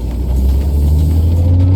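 Car driving along a road on a rainy day, a steady low engine and road rumble with tyre noise, loud and close throughout, no talk.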